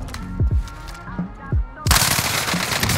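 Gunfire in a shooter video game with a Barrett M82 sniper rifle: a few separate booming shots land in the first second and a half, then a dense, loud burst of rapid fire takes over for the rest.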